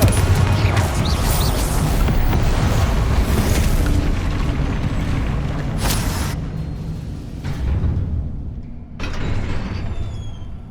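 A Confringo blasting spell explodes in the video game Hogwarts Legacy, a loud, dense rumbling blast with crashing debris that sustains, then eases off with a few sharper bursts near the end.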